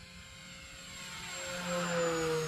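An E-flite Cirrus SR22T RC airplane makes a low pass, its electric motor and propeller giving a thin tonal whine that grows louder and shifts pitch as it draws nearer over a faint outdoor background.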